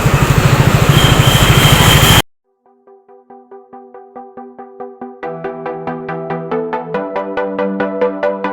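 A motorbike engine runs on the road in the morning on a ride to Noida, first a loud broadband roar, then a steady rhythmic idle-like putter that rises in pitch and loudness as the bike pulls away.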